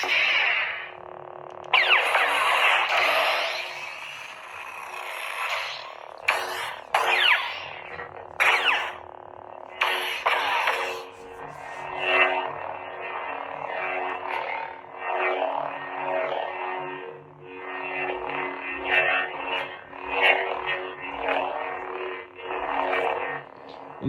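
A lightsaber on a Xeno3 saber board with a flicker blade style plays a steady buzzing hum with swelling, smooth swing whooshes. It is loud and close, with brief gaps and no talk.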